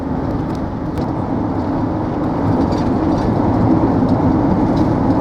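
Heavy motorway traffic rolls past in a loud, continuous roar of tyres and engines, steady throughout and swelling slightly midway, heard from a motorhome travelling along it.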